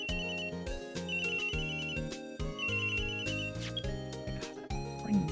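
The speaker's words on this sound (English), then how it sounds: "That ringing is so loud." Phone ringing in the Phoenix Wright: Ace Attorney video game, a repeating electronic ringtone in regular bursts with a musical pattern, clear and steady with no talk.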